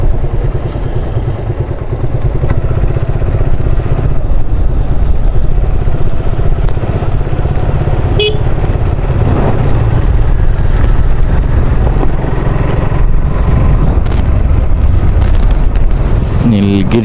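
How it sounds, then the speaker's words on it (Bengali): A motorcycle ridden at moderate speed along a quiet hill road in Bandarban on a rainy day: a close, continuous engine drone holding steady throughout, with faint wind rush. "বাইক খুব বেশি জোরেও চালাচ্ছি না"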